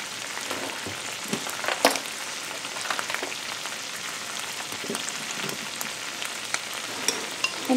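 Cooked beans mashed in a hot pot for refried beans, a steady crackling sizzle with scattered soft squishing taps from the masher, close and even throughout.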